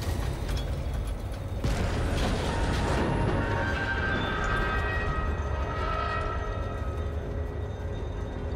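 Train in the Warhammer 40,000 Space Marine 2 video game, heard as a continuous loud mechanical rumble with a broad rising hiss and sustained tonal squeal, steady throughout without talk.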